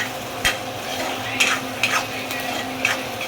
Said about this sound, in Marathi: प्रॉपर मिक्स करून घ्यायचं आहे